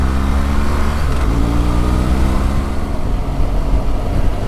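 A motorcycle ridden on wet roads gives a steady, close engine drone with a rushing wind-and-road roar that stays loud and even throughout, with no talking.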